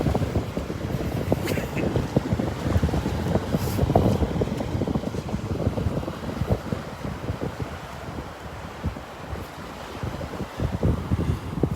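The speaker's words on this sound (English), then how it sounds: "Ooh, that wind is chilly." Wind buffeting across a beach at Delnor-Wiggins with waves washing in behind, a rough, gusty rumble that stays moderate and steady, with no voices.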